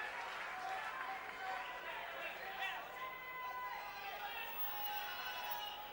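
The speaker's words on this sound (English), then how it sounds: "even that being cheered a little bit by the crowd now" Crowd at a professional heavyweight boxing match cheering steadily throughout, a broad wash of voices and applause with a commentator speaking over it.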